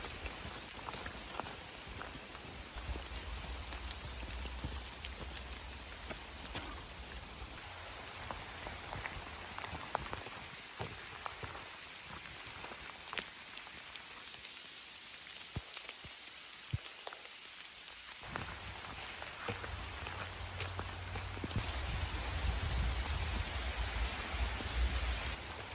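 Steady rain falls all around, a dense continuous patter with no voices.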